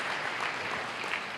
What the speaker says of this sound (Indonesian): Ayo kasih tepuk tangan dulu bagi Tuhan kita.